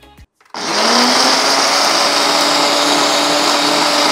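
A mixer grinder whirs loudly and steadily as it grinds fresh turmeric, cloves, black pepper, cinnamon, star anise and coriander seeds with yogurt, starting abruptly after a short silence and running close and unbroken.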